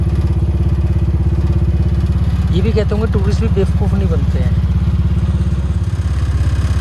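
A large tuk tuk's engine chugs steadily while riding at night in Laos, a loud, low, rapid throbbing that continues throughout, with someone talking over it midway.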